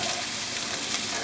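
Meat and vegetables stir-fried together for Thai drunken noodles, likely over a high-heat stove, sizzling loudly and steadily with a dense, continuous hiss and no pauses.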